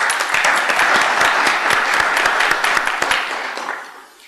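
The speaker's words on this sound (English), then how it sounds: "So I'd like to give them a round of applause." A crowd at a Bastrop city council meeting applauds loudly and steadily for veterans, the dense clapping tapering off toward the end.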